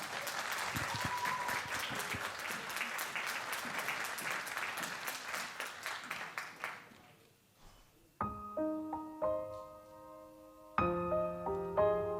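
Audience applause at a children's singing festival, Zaczarowany Mikrofon 2023, a loud, dense sustained clapping that fades out after about seven seconds, followed by a piano-like musical introduction with sustained tones.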